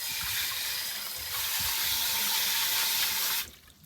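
Running water from a tap rinsing agar off cattleya orchid seedlings being deflasked at an orchid nursery, a steady close hiss and splatter that stops abruptly near the end.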